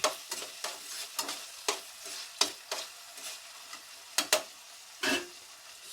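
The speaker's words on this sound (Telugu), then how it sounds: "టమాటా అనేది మెత్తబడి బాగా వేగేంత వరకు మనం వేయించుకోవాలి." Tomatoes with onions frying in a pan for a sprouts pulav, a soft sizzle broken by repeated sharp scraping stirs at an irregular rhythm, close and alone.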